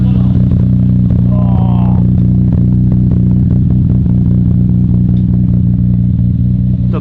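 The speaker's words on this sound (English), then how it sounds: "we still have the cat, the Midori high power silent exhaust back here." Nissan Skyline R34 GTR engine idling through a Midori high power silent exhaust with the catalytic converter still fitted: a loud, steady, smooth low hum close by, without revving.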